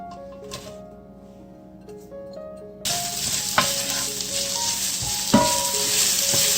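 Onions dropped into hot olive oil in a pan for a Hungarian chicken paprikash: after a quiet start, a loud steady sizzle erupts and continues close up, with occasional stirring clanks over the frying hiss.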